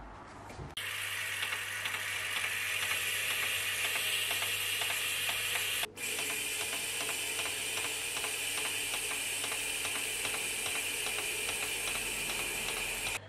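A BMW M20 fuel injector, powered by a 12 volt battery, clicks in a rapid, steady, ratchet-like buzz. A constant hiss of cleaning spray runs underneath, with a brief break midway.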